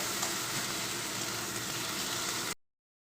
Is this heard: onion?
yes